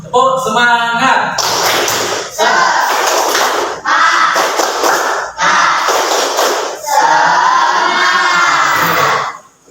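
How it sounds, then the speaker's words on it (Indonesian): A group claps and chants a rhythmic 'tepuk semangat' spirit clap in a classroom Independence Day activity, sounding as several loud, close bursts of voices and claps separated by short pauses. "Tepuk semangat."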